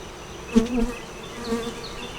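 Honeybees buzz steadily around an opened hive with dead brood, a close continuous drone with a few louder passes as individual bees fly near.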